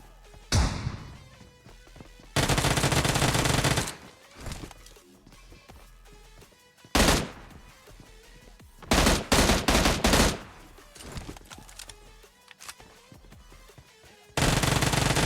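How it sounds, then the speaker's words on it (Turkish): Bursts of gunfire in PUBG Mobile coming from behind the player, loud sustained automatic volleys alternating with sharp single shots and thuds, with quieter in-game ambience in the gaps. "Arkamdan biri sıkıyor."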